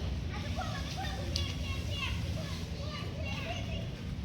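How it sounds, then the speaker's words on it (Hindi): Children play and shriek along Flower Road in a village near Railay Beach, Krabi, Thailand, their squeals and chatter rising from a steady, busy outdoor bustle at a moderate distance. "बच्चों की किलकारी सुनाई दे रही है"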